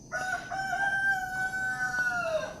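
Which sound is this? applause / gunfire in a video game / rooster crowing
rooster crowing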